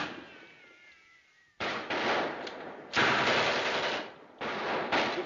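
A machine gun fires in an old film, several short loud bursts separated by pauses after a quieter opening, with no speech over it.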